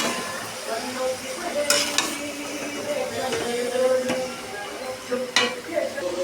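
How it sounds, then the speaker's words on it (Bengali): Meat being sautéed (kosha) in a pan, a moderate sizzle broken by scraping stirs and a few sharp spatula knocks, over a low murmur in the background. "মাংসটা ভালো করে আমি কষিয়ে নেব"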